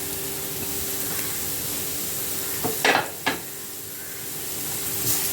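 Paneer stirred in a frying pan, a soft steady sizzle with a few brief scraping strokes of a spatula near the middle, close and moderately loud.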